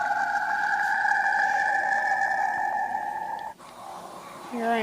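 Eerie recorded sound of the planet Saturn: steady, high, whistling tones held for several seconds like a ghostly scream, breaking off abruptly and giving way to rising chirping sweeps near the end.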